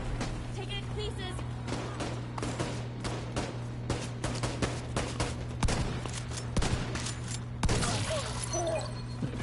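Dense bursts of rapid gunfire and crackling impacts from a firefight in The Division 2, sustained over several seconds with sharp louder shots, mixed with game sounds and a voice talking underneath.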